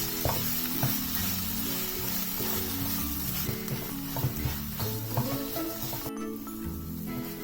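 Mango pachadi with jaggery stirred in a pan, a steady close scraping and sizzling that runs throughout with a brief pause near the end, no voices.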